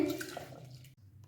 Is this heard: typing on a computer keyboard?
no